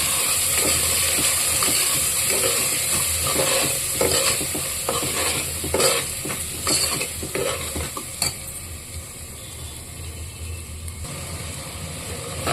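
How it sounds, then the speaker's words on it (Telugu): Soybean curry fries in oil in a pan, with a steady sizzle running throughout and repeated spatula scrapes and clicks as it is stirred. "ఆయిల్ పైకి వచ్చిన వరకు వేపాము."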